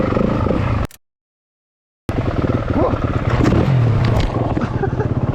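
A Yamaha WR250F dirt bike goes down on an off-road trail, the engine noise cutting out abruptly for about a second before the motor and rough scraping return loud and close.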